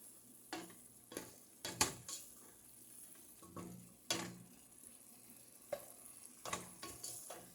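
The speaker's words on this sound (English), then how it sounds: "And then just give it a stir" Mushroom soup being stirred in a pot, with spoon scrapes and clinks against the pot sounding in scattered, irregular bursts over a low sizzle, close and fairly quiet.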